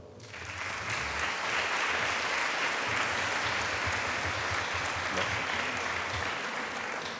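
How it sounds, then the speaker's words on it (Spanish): Sustained applause from an audience at a Red Cross regional gathering in western Almería, a dense, steady wash of clapping that stays loud and even for about seven seconds with no voices over it. "Un aplauso."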